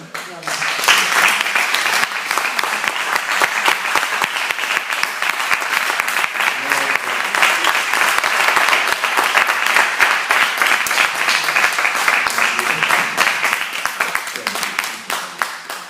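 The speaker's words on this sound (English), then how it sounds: "I think you deserve a very big applause." Long, sustained audience applause for Robert Dilts at a conference, a thick, even roar of many hands clapping that holds steady throughout and tapers slightly at the end.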